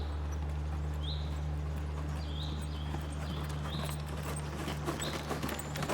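A horse walking in a riding lesson, with steady, even hoof clip-clops heard at a moderate distance over a low constant hum, occasional faint bird chirps, and no talking.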